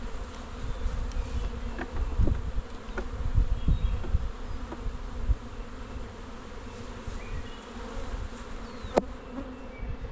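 Honey bees swarm around a beehive full of busy colonies in a backyard apiary, a dense continuous buzzing hum filling the air at close range, with occasional faint taps and clicks from handling the hive boxes.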